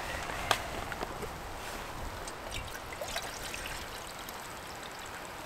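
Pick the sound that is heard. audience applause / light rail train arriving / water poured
water poured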